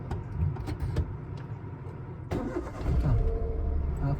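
Car engine being restarted during a driving lesson with half-clutch practice, heard as a low rumbling idle with a starter crank and engine catching partway through, close and fairly quiet.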